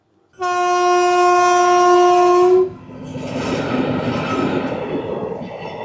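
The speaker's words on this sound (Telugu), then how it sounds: "వచ్చేస్తుంది ట్రైన్ వచ్చేస్తుంది." A train arriving at a station on a South Indian rail trip sounds a loud, sustained horn for about two seconds, followed by the heavy rumble and rattle of carriages rolling close by.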